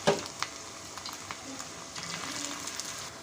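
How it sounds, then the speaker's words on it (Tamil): Cauliflower pieces frying in hot oil on a dosa pan, a steady broadband sizzle with crackling pops that burst loudest at the start, then settle into an even hiss with occasional spits. "எண்ணெய் நல்லா காஞ்சதும் ஒவ்வொரு பீஸாக அதில் போட்டு பொரித்து எடுத்துக்கலாம்."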